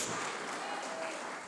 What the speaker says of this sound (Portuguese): Bata as palmas